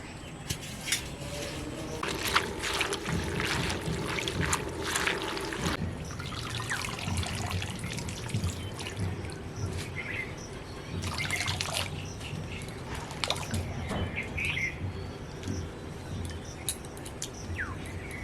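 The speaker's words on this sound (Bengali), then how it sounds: "এখন আমি এই শাকটাকে ভালো করে জল দিয়ে ধুয়ে নেবো।" Kharkol leaves being rinsed with water in a kitchen: steady trickling and dribbling water with splashes and drips as the greens are handled, close and fairly quiet, with no talking.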